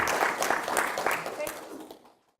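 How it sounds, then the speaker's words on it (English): An audience at a technical talk claps in a dense, even patter that gradually thins and fades to silence over a couple of seconds. "give him a round of applause."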